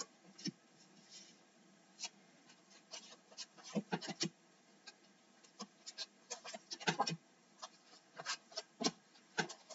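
Tarot cards being shuffled by hand, soft rubbing and irregular flicking taps up close, faint and scattered over about ten seconds with no talking.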